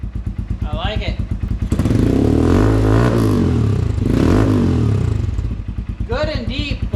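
Honda XR150 motorcycle with an aftermarket full exhaust and airbox and carb jet mods, idling with a deep, steady thump, then revved up strongly twice and dropping back to a loping idle, close and loud.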